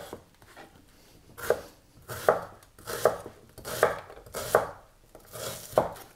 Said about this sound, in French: On va commencer la sauce avec l'oignon, c'est-à-dire qu'on va le couper, on va le hacher.